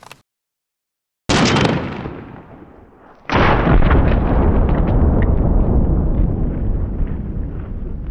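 Two gunshots from a short-barreled rifle ring out in sequence outdoors, each a sharp loud blast followed by a long rolling echo that decays slowly, the second blast sustaining its reverberation to the end.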